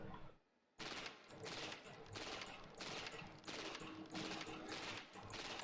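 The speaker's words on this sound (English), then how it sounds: "As you can tell, this is your standard burst SMG." A burst-fire SMG in the game Valorant fires repeated short bursts in a steady rhythm after a brief pause, loud and close with no talking.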